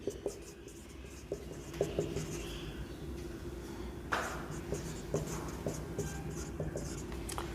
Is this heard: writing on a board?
yes